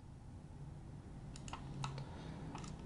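Computer keyboard keys tapped as shortcuts while modeling in SketchUp, a few quick, light clicks in a short burst over a faint steady room hum.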